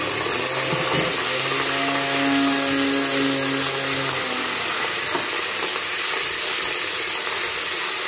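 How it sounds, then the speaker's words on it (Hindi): Garlic ginger paste frying with well-browned onions in a pan, giving a steady close sizzle with soft stirring and a brief tonal hum early on, no talk. "और अब इसमें डालने लगे लहसुन अदरक का पेस्ट।"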